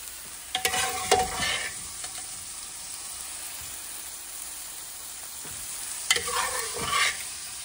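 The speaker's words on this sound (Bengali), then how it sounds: "এইবারে আমি দিয়ে দেবো হচ্ছে ডালটা।" Lentils (dal) go into a pan of cooked-down spices and are stirred, with two bursts of scraping and sizzling at the start and near the end, separated by a quieter low simmer, close up.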